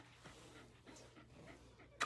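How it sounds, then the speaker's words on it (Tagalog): A dog pants close by in quick, soft breathy puffs, fairly quiet, ending in a brief sharp noise. "alaga tayo ng aso ngayon mga kaibigan"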